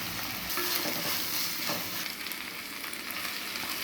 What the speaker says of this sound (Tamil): வெங்காயம் நல்லா வதங்கணுங்க. பூண்டு பேஸ்ட், பொடியாக கட் பண்ண கேப்சிகம்